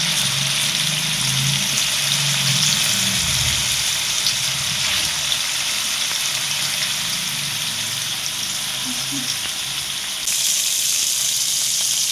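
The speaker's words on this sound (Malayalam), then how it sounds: "അതിലേക്ക് നമ്മൾ പുരട്ടി വെച്ചിരിക്കുന്ന ചിക്കൻ ഇടുക." Marinated chicken frying in hot oil in a pan, a loud, continuous close sizzle like heavy rain that holds steady throughout.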